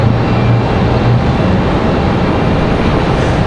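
American Airlines flight 1982 comes in to land at Raleigh-Durham International Airport, a loud, steady, broad jet roar with a strong low rumble, heard close and without voices.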